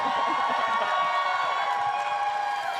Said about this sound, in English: Everybody applauding.